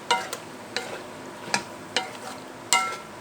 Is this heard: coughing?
no